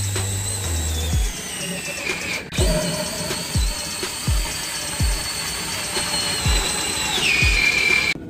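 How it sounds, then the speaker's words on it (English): A power drill whines steadily with its pitch rising and falling under load, driving a Princess Auto snowmobile lift holding a sled, while the lift mechanism clicks in a regular rhythm close by. "So I will be using the drill."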